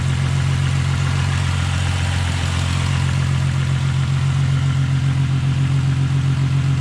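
A 2000 VW GTI engine idles loudly and steadily just after starting, with a low, even rumble and light mechanical clatter, close by and continuous throughout.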